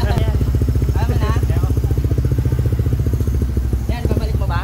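A Suzuki Raider 150 Fi motorcycle fitted with a Vhenworkz power pipe exhaust runs with a steady, throbbing low pulse that holds through the whole stretch, while people talk close by over it.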